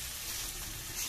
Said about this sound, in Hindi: इसको थोड़ा हाँ थोड़ा देर प्याज के साथ भुना जाएगा